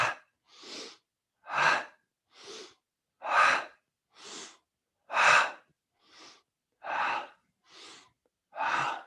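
Alternate nostril breathing during a yoga class for people with Parkinson's: about a dozen loud, close nasal breaths alternating inhale and exhale in an even, slow rhythm, each a breathy rush separated by brief silences.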